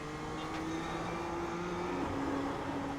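A BMW M2 engine accelerating in the iRacing simulator at Mount Panorama, Bathurst, a steady loud rising drone with a brief pitch shift as the gear changes.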